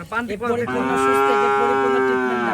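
A single Fleckvieh bull moos loudly and close at a cattle farm, a long, sustained low call after a brief rough start.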